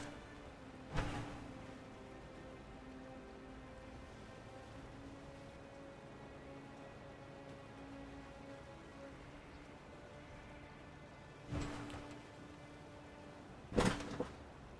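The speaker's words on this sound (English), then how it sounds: "It is raining very hard outside, and my window is wide open." Heavy rain falls outside a wide-open window, a steady hiss under sustained electronic tones, with three sharp knocks or thumps breaking through.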